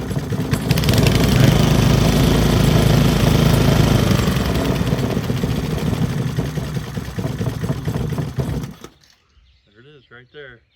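An old Briggs & Stratton small engine salvaged from the trash runs loud and close with a rapid chugging idle, then cuts out near the end, leaving a faint voice speaking in the quiet.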